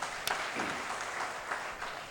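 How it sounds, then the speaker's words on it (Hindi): Audience applause at a Hindi kavi sammelan poetry event, a steady dense clapping wash filling the short stretch, fairly even in loudness with a sharp clap near the start. "जरा एक बार तालियां बजाओ"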